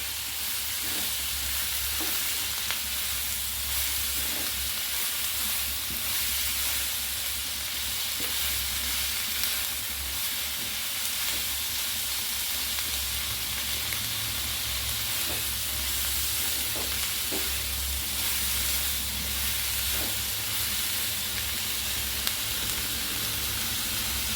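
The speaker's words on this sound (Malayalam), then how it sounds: "നന്നായി വഴറ്റി കൊടുക്കാം. സവാള ഒന്ന് ചെറുതായി ഒന്ന് വാടി വരട്ടെ." Chopped onions sauté steadily in a hot pan for a liver pepper fry, giving a continuous close sizzling hiss with faint stirring scrapes and no talking.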